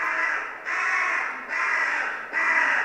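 Crows caw in a stage play of The Wonderful Wizard of Oz: four long, loud, harsh caws in an even rhythm, each running straight into the next, with no voices.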